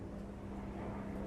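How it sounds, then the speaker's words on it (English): A faint, steady engine drone hangs in the distance, the low humming tone of a helicopter passing somewhere overhead, with no voices. "Oh, that's a helicopter."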